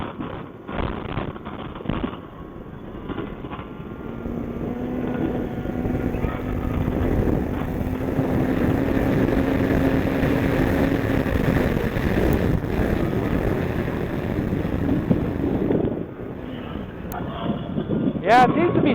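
Snowmobile fitted with a new ADAPT clutch on a packed trail, its engine revving in a sustained, fairly loud drone with wind buffeting and brief voices over it.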